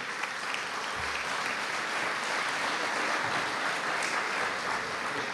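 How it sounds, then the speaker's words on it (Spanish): Sustained applause from a crowd at a regional development forum for older adults in Lima, an even roar of many clapping hands heard from a little distance, holding steady throughout. "a quien vamos a despedir con el aplauso de todos los presentes"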